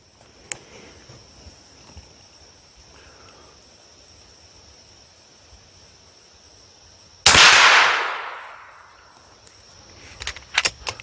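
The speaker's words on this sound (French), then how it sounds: "j'entends l'explosion de la balle" A 6.35 mm pellet from an FX M3 air rifle with a 700 mm barrel bursts on a target 40 metres away. A single sharp, loud crack breaks a quiet background and trails off over about a second, followed by faint handling clicks.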